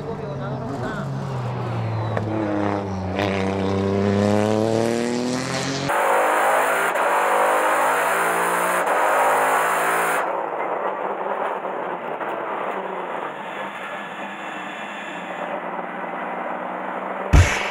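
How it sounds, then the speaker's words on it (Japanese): A Toyota GR Yaris race car on the Tsukuba circuit, with its engine note rising and falling loudly in sweeping revs, a commentator talking over it and a sharper high-pitched whine in the middle section. "GR ヤリス、つくばでの最速を誇っているマシンから入ってきます。"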